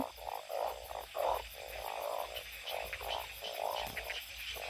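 Frogs croak in a repeated, rhythmic chorus of throaty pulses, moderately close, over a soft outdoor background with no voices.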